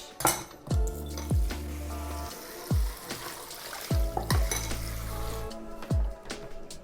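Dishes, pots and pans being washed in a kitchen sink after meal prep: running water with repeated clinks and clanks of cookware and cutlery, several sharp knocks spaced a second or so apart, close and fairly loud.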